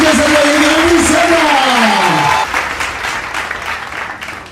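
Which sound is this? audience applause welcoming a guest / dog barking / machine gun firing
audience applause welcoming a guest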